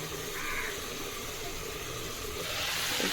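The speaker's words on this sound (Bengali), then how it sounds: "মাছ ভাজি হইতেছে" Fish frying in a pan gives off a steady, faint hiss of hot oil, continuous and even throughout, growing slightly brighter toward the end.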